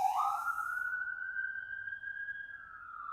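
An emergency vehicle siren in a city sounds as one long wail that rises and then holds a steady pitch, fairly loud and clear over a low background hum, with no talking.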